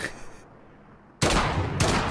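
Loud booming gunshots from the video game Call of Duty: Modern Warfare (2019) erupt after a quiet stretch, with a second heavy blast close behind, each one dense and rumbling.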